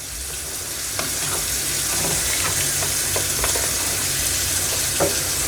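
Stew chicken gravy sizzles and fries steadily in a pot, a continuous loud hiss with occasional scraping stirs and small pops throughout, no voices.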